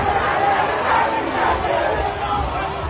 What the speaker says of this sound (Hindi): नारेबाजी।